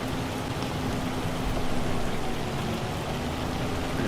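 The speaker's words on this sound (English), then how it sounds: "It is still hailing at the moment, but it shouldn't be too much longer until that stops." Hail falls steadily in the Farming Simulator 25 video game, a dense, even hiss of pelting ice that runs unbroken at constant loudness, with no talking.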